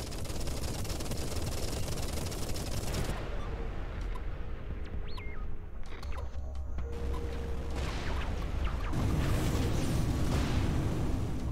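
A dense, continuous roar of booming blasts and crackling bursts from the video game Everspace 2, loud throughout, easing briefly in the middle before surging back.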